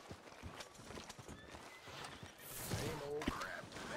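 Horse hooves clip-clop on a town street in Red Dead Redemption 2, with a whinny near the end; steady footfalls under a layer of background ambience, and the hoof sounds grow louder and busier in the last second and a half.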